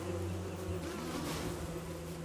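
Killer bees in Don't Starve Together drone with a continuous layered buzz, steady and fairly close, with low humming tones underneath and no pauses.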